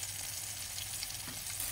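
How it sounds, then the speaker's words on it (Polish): Fish frying in a pan over medium heat, a steady close sizzle and crackle that holds evenly throughout with no voices. "Rybka już ładnie skwierczy, ładnie się smaży."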